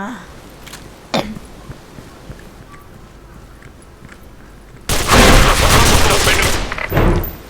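Gunfire in the shooter game Special Force 2: scattered faint shots and clicks at first, then a sudden loud, dense burst of automatic fire dominating the final seconds.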